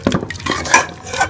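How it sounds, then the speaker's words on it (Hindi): Spinach paste is stirred and fried with beef and spices in a pot, giving close, loud scraping and stirring with light clinks of a utensil against the pan, brief and without speech. "गोश्त के अंदर पालक को अच्छी तरह से भून लेंगे मसाले में।"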